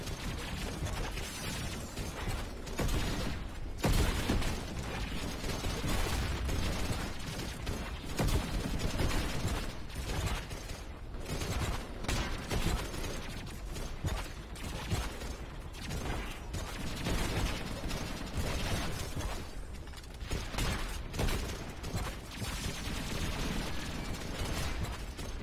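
Continuous rifle fire and mechanical clatter from the Running with Rifles war game, a dense, steady barrage of shots and gear noise running throughout at constant loudness.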